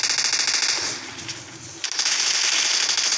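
Rapid automatic gunfire in the mobile battle royale game PUBG Mobile, dense crackling bursts that ease briefly mid-clip then resume at full intensity, loud and continuous with no voice.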